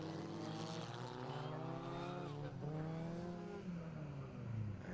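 Race cars at Snetterton circuit drive back towards the starting grid, their engines droning with shifting, rising and falling pitch, at a moderate distance and fairly quiet throughout.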